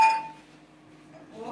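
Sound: dishes clinking as they are picked up

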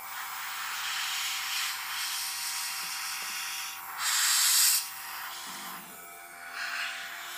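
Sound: airbrush spraying paint

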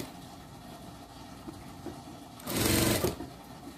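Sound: sewing machine stitching the armhole of a dog dress

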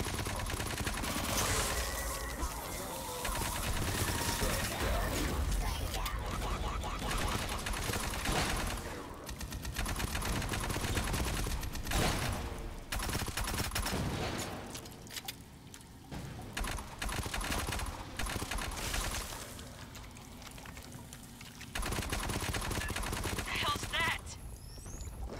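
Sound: sentry guns firing in a video game

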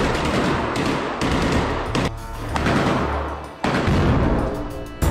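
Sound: weapon fire, rocket launch in combat footage

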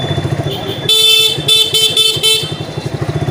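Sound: vehicle horn honking during a village ride

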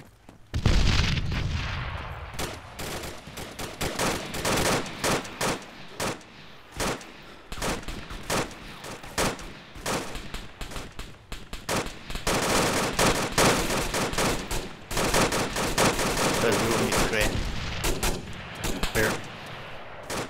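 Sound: enemy gunfire

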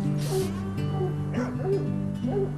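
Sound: dog barking

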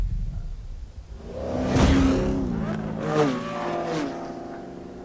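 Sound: car engine revving in video game

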